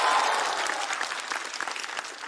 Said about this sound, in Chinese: 我们掌声再次送给陈爱